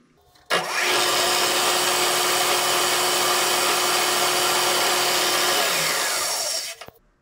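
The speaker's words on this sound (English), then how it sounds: "we're gonna use a number 13 bit to drill a hole for a number 10 screw" A power drill spins up and bores steadily for about six seconds with a number 13 bit, drilling a hole for a number 10 screw during a K40 CO2 laser drag chain installation, then winds down; loud and close.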